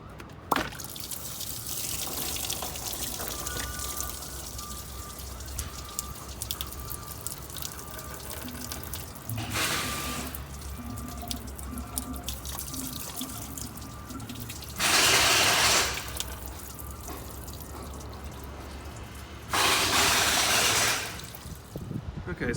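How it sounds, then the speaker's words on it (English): Coolant drains from a pulled radiator hose on a Ford F-150 into a catch pan, a steady close trickle and splash of liquid with a few louder gushing bursts. "Now make sure you have a pan to catch the fluid, because you will have fluid coming out of this hose when you pull it off."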